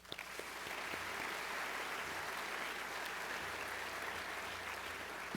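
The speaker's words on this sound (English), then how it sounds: "So please, a round of applause for them." An audience at an evening event at the Reagan Museum breaks into full applause after a sharp start, holding a thick, even clatter of clapping to the end.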